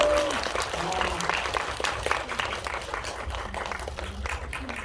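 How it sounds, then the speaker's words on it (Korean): An audience claps steadily and warmly at a film stage greeting in a CGV Mokdong cinema hall, a dense sustained wash of many hands with a voice faintly underneath. "다시 한 번 큰 박수 부탁드리도록 하겠습니다"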